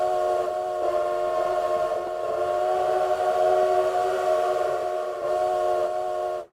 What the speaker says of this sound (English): This sounds like 2 trains.